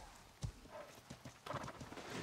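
Horse hooves clip-clop in the medieval game Life is Feudal, several distinct hoof strikes landing irregularly at close range, with a faint whinny and soft background noise around them.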